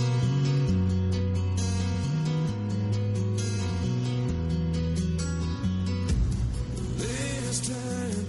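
A pop ballad plays steadily and loudly, with sustained chords, a moving bass line and a brighter, busier passage near the end.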